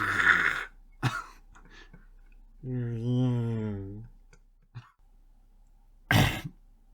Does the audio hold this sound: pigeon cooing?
no